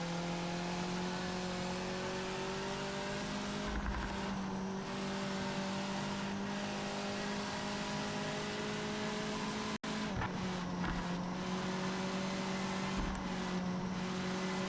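An MX-5 driven in the Project Motor Racing video game, a steady engine whine with rising and falling pitch, a brief cut near the middle, and occasional tyre noise, close and continuous without talk.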